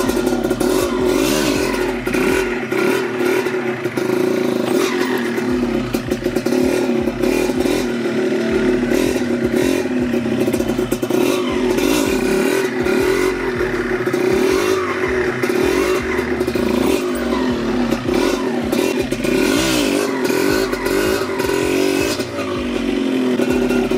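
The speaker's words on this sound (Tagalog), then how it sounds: "Napakaingay ng clutch housing" A 1995 Yamaha DT125 enduro motorcycle's engine idles loudly and continuously up close, with a rattly clatter from a noisy clutch housing running steadily under the engine note.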